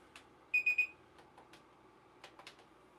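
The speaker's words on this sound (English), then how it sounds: "Timer." A workout interval timer sounds three quick electronic beeps in a row, clear against a quiet room. A few soft clicks and taps follow.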